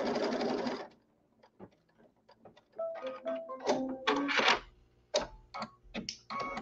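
An embroidery machine stitching a design on a quilted piece, rapid rhythmic needle ticking in bursts with pauses, close and clear; someone briefly talks at the start.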